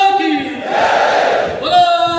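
A large crowd at a Mangalore public rally against a loudspeaker ban roars a chant to Bharat Mata, a loud swelling shout between a leader's amplified calls.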